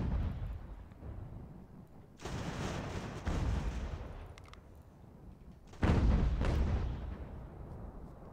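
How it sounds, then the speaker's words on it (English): Artillery fire in Ultimate General: American Revolution, heavy cannon booms and rumbling volleys arriving in bursts over a continuous low battlefield roar, with the loudest blast near the end. "artillery, shoot at whoever you want to shoot at at this point"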